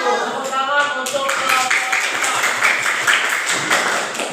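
Primary school pupils in an Indonesian classroom clap for a group presentation, a brisk burst of many small hands tapping together at close range, steady for a few seconds with faint voices mixed in.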